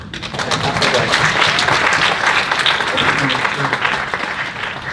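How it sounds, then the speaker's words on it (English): A youth audience applauds at an SDG Activate talk with loud, dense, sustained clapping. Voices mix into the crowd noise throughout, easing off slightly at the end. "Round of applause."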